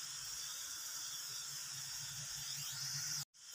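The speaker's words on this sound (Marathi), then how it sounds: "कमी गॅसवर मस्त आधी छान तळून घ्यायचं आपल्याला." Sev, gram flour noodles being made for motichur ladoo, fries in oil over a low gas flame, giving a steady close sizzling hiss that continues evenly before cutting out abruptly near the end.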